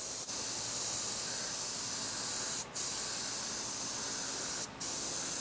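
A spray gun dusts base coat colour onto a car panel at lowered air pressure for a small paint repair, giving a steady, loud hiss that runs without a break except for two brief pauses.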